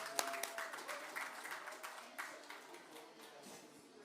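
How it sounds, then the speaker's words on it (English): An audience at a conference claps steadily, a dense patter of applause that slowly thins, heard at a moderate distance. "Please give a round of applause to Pak Darsono."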